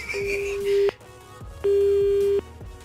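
Telephone busy tone after the other party hangs up on a call, two long steady beeps separated by a gap, loud and clear on the line with faint background noise.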